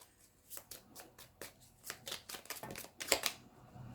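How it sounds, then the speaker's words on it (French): Oracle cards from a Gaia oracle deck are shuffled by hand. Soft, close papery flicks and riffles come in irregular bursts at a quiet level, with no voice. "je vais tirer une petite carte donc issue de l'oracle de Gaïa"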